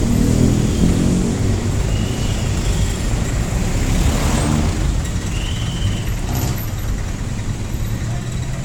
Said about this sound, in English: otherwise the traffic is going to make it difficult to cross